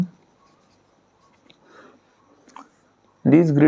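A pen scratches out an answer on paper while working through maths number grids, light intermittent strokes close by and quiet, followed by a voice speaking at the end.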